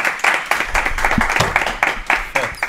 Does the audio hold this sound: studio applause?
yes